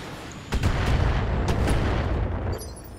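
LRM missile volley fired at a Locust mech in the BattleTech video game, a sustained rumbling barrage of overlapping booms and sharp launches lasting about two seconds, loud and close with no talk.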